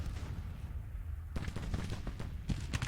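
Massed rifle volleys from a Scottish brigade in a Civil War strategy battle, a run of sharp crackling shots bursting irregularly in the second half over a low rumbling battlefield bed.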